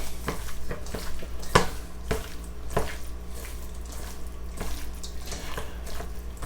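A soy sauce marinade is stirred in a bowl, with wet, sloshing clinks and swishes at irregular intervals, close and moderately quiet.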